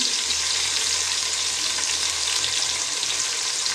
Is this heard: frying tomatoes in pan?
yes